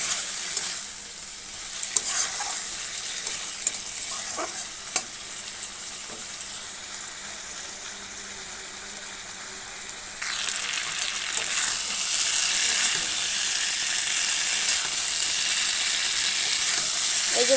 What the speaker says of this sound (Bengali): আরও খানিকক্ষণ ভালোভাবে কষিয়ে নেব।